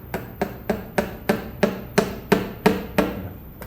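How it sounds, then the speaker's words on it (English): Surgical mallet tapping an awl to make a pilot hole for a rotator cuff anchor at a workshop, ten sharp evenly spaced strikes about a third of a second apart, close and clear. "please hammer. So what we'll do is we'll just make a pilot hole."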